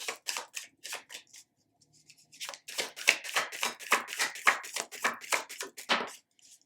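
Tarot cards are shuffled and pulled by hand, with a run of crisp riffling flicks and taps that pause briefly and then return in a fast, close, rhythmic burst.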